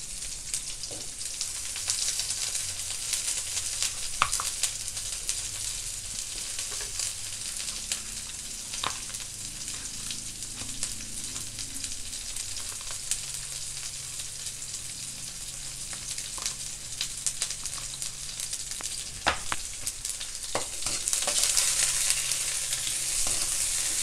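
Shrimp fries in a pan while cooking balatong, a steady close sizzle with crackling pops that runs throughout, with occasional stirring clinks and no talking.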